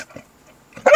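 Two dogs roaming a Walmart parking lot give a short bark near the start, then a louder burst of barking at the end of the brief moment.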